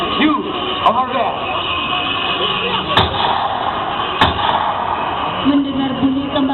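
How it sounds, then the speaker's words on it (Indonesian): Gunshots ring out in an outdoor patriotic stage drama on an open field, several sharp cracks spaced a second or more apart over loud, roomy background noise with voices. "Mendengar bunyi tembakan, Kapten Amin dan para kopralnya pun terbangu"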